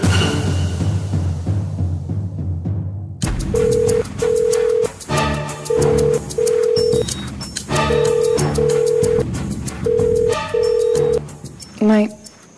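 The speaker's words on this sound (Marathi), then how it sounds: "फोन लाव." A telephone is dialled in a Marathi drama scene: a rapid series of tones, then a repeated ringback tone in regular paired pulses, fairly close and clear, with a brief sharp sound at the end.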